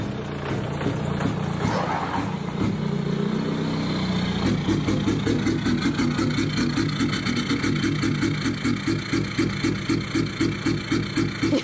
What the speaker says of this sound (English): Right, so I've just started up the Honda the first time in 3 weeks.